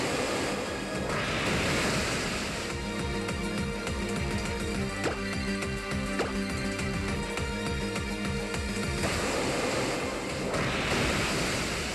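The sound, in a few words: Waterfall attack in Pokémon Alpha Sapphire video game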